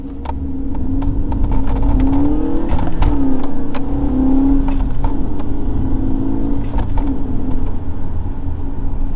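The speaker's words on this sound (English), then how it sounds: "That was probably the best launch I've had in this car." A car launches hard with a loud, rising engine roar close by, accompanied by rhythmic mechanical clicks and whirs as it accelerates steadily for several seconds.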